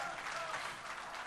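Wedding audience applause, a steady wash of many hands clapping at moderate distance, brief and unbroken.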